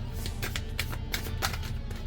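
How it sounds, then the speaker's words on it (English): Cards riffled and tapped as a single card is shuffled into a print-and-play board game deck, a quick run of soft, close, crisp flicks over a low background hum. "Now we're going to shuffle it in."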